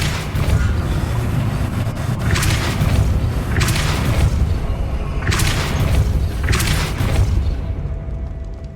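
Depulso pushing spell cast in the video game Hogwarts Legacy: four or five forceful whooshing bursts with a booming edge at irregular intervals, loud over a steady low rumbling game backdrop.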